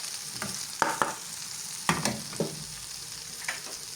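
Rice roasts in oil in a pan, with a soft low sizzle broken by several sharp scraping and stirring strokes of a utensil against the pan.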